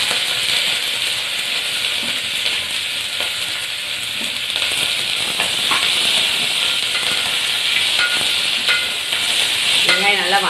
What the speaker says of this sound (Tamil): வெங்காயம் போட்டுக்கலாம் அப்படியே.